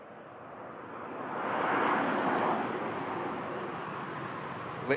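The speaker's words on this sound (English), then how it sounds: "Literally going up like a rocket, this aircraft now." An Emirates charter jet departing and climbing steeply at Manchester Airport, a steady distant roar that swells to a peak and then eases slightly as it climbs away, with no voices.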